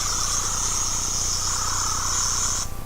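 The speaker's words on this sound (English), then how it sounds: "There's the sonic-y noise." A talking Doctor Who-themed plush toy emits a sonic screwdriver-like electronic whine, a steady high-pitched buzzing tone lasting under three seconds before cutting off abruptly over a low background hum.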